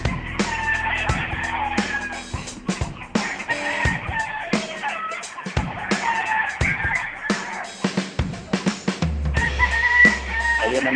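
Chickens cluck and call at a rural property in Sorsogon, Philippines, in a busy, continuous chorus with repeated sharp clucks and a rooster-like cry, close and loud.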